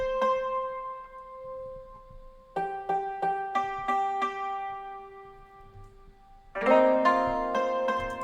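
A sampled yangqin, the Asian hammered dulcimer, plays an ethnic-style melody, starting with a sustained tone and then moving into quick bouncing struck notes, ending in a denser flurry of strikes, close and clear with no voices.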